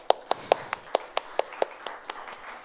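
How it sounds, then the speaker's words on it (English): About a dozen separate claps ring out for a speaker at a talk, evenly spaced and fairly faint, sounding like a small number of hands rather than a full roaring audience. "Give him a big round of applause."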